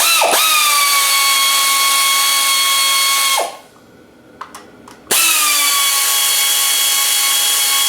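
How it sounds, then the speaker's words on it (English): A pneumatic air tool runs at a steady high whine on the sprocket cover bolts of a 1987 Honda XR200, spinning up, holding, stopping briefly with a few clicks, then whirring again, close and loud. "crack those bolts loose, and then use the air tool"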